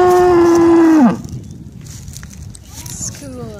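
A cow on a farm gives one loud, long moo at close range that drops in pitch and cuts off, followed by quieter background noise and faint distant calls.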